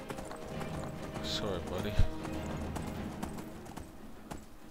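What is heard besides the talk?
horse hooves clip-clopping while riding in video game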